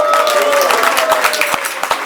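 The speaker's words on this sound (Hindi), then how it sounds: "मान के ताली बजाओ।" An audience at a Sunday satsang gathering in Mauritius claps steadily in a dense, continuous burst, with a sustained musical tone under the applause.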